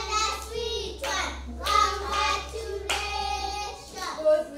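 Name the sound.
clapping hands in applause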